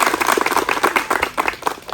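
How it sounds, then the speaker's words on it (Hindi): Loud, energetic clapping from an audience at a network marketing motivational event, with distinct rhythmic bursts of hands rising and falling throughout, close and prominent. "एक बार मैं चाहूंगा सर पूरे दिल से एक बार उनके लिए जोरदार तालियां"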